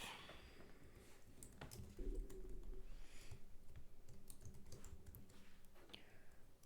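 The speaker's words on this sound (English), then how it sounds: "Kind of hard to type when I got a microphone in the way of my keyboard here." Quiet keystrokes on a computer keyboard click in short irregular bursts, fairly faint, with a microphone placed close to the keys and some soft background noise.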